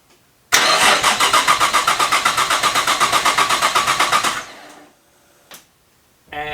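A Nissan R32 engine cranks without catching, a loud rhythmic starter whirr with even pulsing compressions for about four seconds, then it stops and the bay falls quiet apart from a brief click and a renewed crank at the end.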